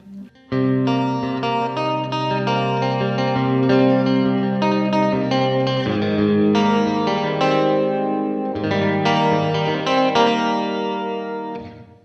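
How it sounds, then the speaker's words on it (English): Electric guitar on the middle pickup strums chords with a thickened, doubled tone and a wash of reverb, sustained and ringing, played continuously with brief pauses between phrases. "This is with a doubler and reverb in the middle only pickup."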